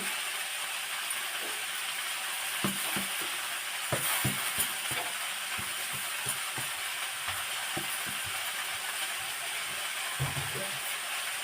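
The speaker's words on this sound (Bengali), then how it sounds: "আমি তো রসুন ফোড়ন দিলাম" Garlic tempering sizzles in hot oil before greens are fried, a steady soft hiss with irregular small crackles and pops, fairly quiet and close.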